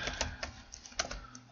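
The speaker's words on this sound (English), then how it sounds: "I'm just typing these down here temporarily to help me remember." Light keystrokes tapping on a computer keyboard in an irregular burst, close and fairly soft, with brief pauses between clusters of keys.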